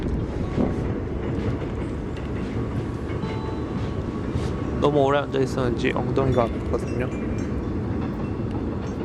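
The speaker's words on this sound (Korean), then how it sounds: "저 열차만 다 지나가면 이만 멈추도록 하겠습니다." Train passing by on Nodeul Island on a rainy day, a steady rumbling roll under someone speaking Korean, with a burst of squealing wheel noise in the middle.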